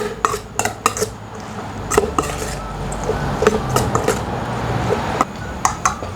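Utensils clatter and scrape against a bowl while tossing a Thai spicy squid salad with sliced lemongrass, shallots, bird's eye chilies and kaffir lime leaves, giving irregular close clinks over a soft mixing rustle.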